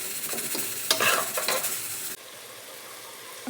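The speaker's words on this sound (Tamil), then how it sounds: "அடுத்து வெங்காயம் போட்டு வதக்கணும்." Onions sautéed with cinnamon and fennel in hot oil give a close, steady sizzle with stirring scrapes for about two seconds. The sizzle then drops to a softer, even hiss.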